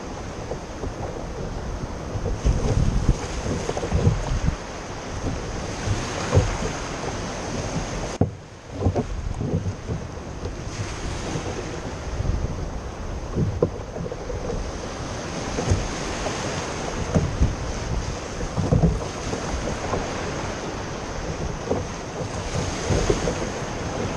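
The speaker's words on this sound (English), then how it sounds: "I'll get on my kayak and then just start powering through those waves" Ocean surf breaks around a kayak offshore in rough, sporty conditions, with a continuous roar of waves and heavy wind buffeting the microphone and periodic louder surges of crashing water.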